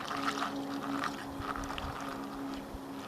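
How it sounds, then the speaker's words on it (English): Two-stroke fuel mix is poured into the gas tank of a Yamaha PW 80 dirt bike, giving a faint, continuous liquid gurgle and trickle heard close up. "I'm going to just pour this whole thing of 2-stroke mix in there"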